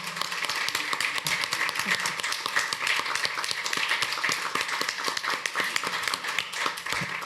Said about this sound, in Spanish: Yo quería que le dedicásemos un aplauso, porque sin él esto no existiría